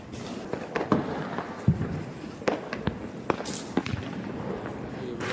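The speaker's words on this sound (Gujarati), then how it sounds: "ફટાકડા ફૂટે છે" Diwali firecrackers burst in a scattered, irregular series of sharp bangs and pops, some close and loud, others fainter and farther off.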